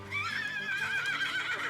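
A horse at a wagon train camp neighs loudly and close, one long wavering whinny lasting over a second, with faint hoof clops underneath.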